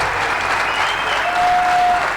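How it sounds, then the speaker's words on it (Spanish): A large church audience gives a strong, steady round of applause welcoming a pastor, dense clapping filling the whole stretch without a break. "Con este fuerte aplauso recibimos en Transformación al pastor Luis Morales."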